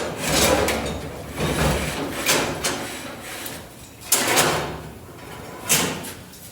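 An M2B auger shaft is drawn out of its auger box bearing, giving close, loud scraping and rubbing bursts of metal dragging through the housing, with a few sharper knocks along the way.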